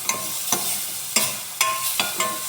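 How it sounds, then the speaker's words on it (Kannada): Spoon scraping in a pan as curd is stirred into fried garlic for a garlic raita, a short run of about six evenly spaced, fairly close strokes with a faint sizzle between them. "ಆಮೇಲೆ ಗ್ಯಾಸ್ ಆಫ್ ಮಾಡಿಕೊಂಡು ಇದಕ್ಕೆ ಮೊಸರು ಹಾಕಿ ಸರಿಯಾಗಿ ಕೈ ಆಡಿಸ್ಬೇಕು"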